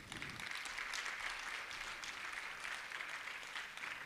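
Clapping from a seated audience at a Jain religious discourse gathering in Indore, a dense, even patter of many hands that stays moderately loud and unbroken for a few seconds.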